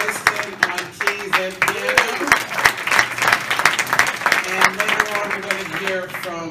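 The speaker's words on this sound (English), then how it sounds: "Please give it up for Sharon Tinnan on the drums." Audience applause for jazz musicians at a live concert, a dense wash of clapping with scattered cheers running steadily under a voice speaking over it.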